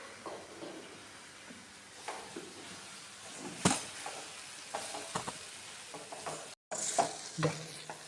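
Bitter gourd frying in a pan as ground spice paste is stirred in, a soft continuous sizzle broken by a few scraping stirs, fairly quiet and close, with no talk.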